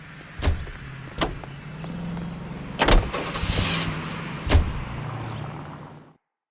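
Car driving in the video game L.A. Noire, a steady engine hum running throughout with several sharp knocks and thuds over it, then cutting off abruptly near the end.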